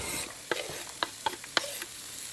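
Garlic added to onions cooking in melted butter for butter chicken, with a soft steady sizzle broken by several sharp scraping stirs of a utensil against the pan.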